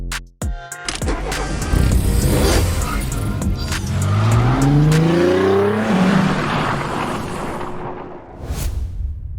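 A car rolls in at an auto awards event, its engine revving and rising in pitch with a drawn-out tire squeal mid-way, loud and close over a background crowd hum.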